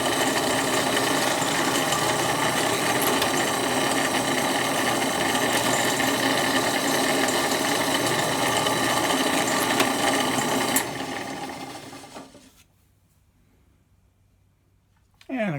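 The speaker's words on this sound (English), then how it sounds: "we'll drill a hole through the 2x4 as well" A power drill bores a hole through a 2x4, a loud, steady, close whirring grind lasting about eleven seconds before it winds down to near silence, with a brief noise at the very end.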